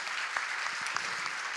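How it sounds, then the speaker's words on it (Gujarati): An audience at a temple consecration festival in Melbourne claps together, a dense, steady round of applause throughout with no voices over it. "એક વખત જોરદાર તાળીઓના નાદ સાથે વધાવો."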